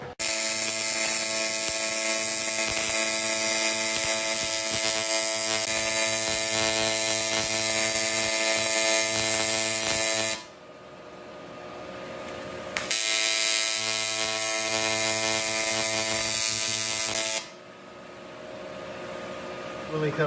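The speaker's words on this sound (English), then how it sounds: "So I'm going to grind that down" An angle grinder grinds down a TIG-welded crack fill, whining loudly and steadily in two long passes separated by a pause, with faint talk in the gaps.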